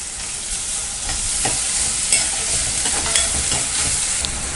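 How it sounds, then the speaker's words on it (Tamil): Chopped big onion and carrot are sautéed in a pan for spicy rice kozhukattai, giving a steady close sizzle of frying with occasional scraping stirs and no talk. "பெரிய வெங்காயம் நல்லா வதக்கிக்கலாம். வதக்கிட்டு இப்போ கேரட் ஆட் பண்ணிக்கலாம்."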